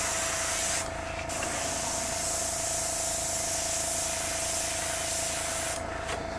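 An airbrush sprays Vallejo Model Color paint thinned with airbrush thinner, giving a loud, steady hiss with two short breaks where the trigger is released.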